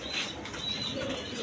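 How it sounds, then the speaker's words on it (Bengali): Pigeons of different breeds, kept in pairs with chicks, flap their wings in a quick, soft flutter close by, with faint cooing in the background. "তো বিভিন্ন ব্রিডের কবুতর আছে, যার যেটা পছন্দ নিতে পারেন"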